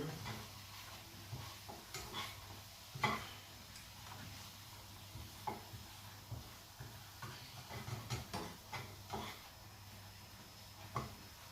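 Breakfast food is flipped in a frying pan, with scattered clinks and scrapes of a utensil against the pan over a low background sizzle, quiet and close, with no voices.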